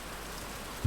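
Steady rain falls across a medieval abbey in the game Pentiment, a soft, even hiss throughout the short moment, with a dull low thump at the very end.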